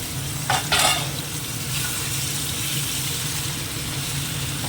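Spice-coated fish sizzling in a hot pan, a steady close frying hiss with a brief burst of louder spitting early on, then an even crackle that holds to the end.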